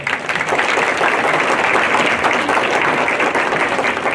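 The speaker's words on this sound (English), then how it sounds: "kids a big round of applause." An audience at a junior livestock show in Bailey County gives the kids sustained applause, a dense, steady wash of clapping throughout with no pauses.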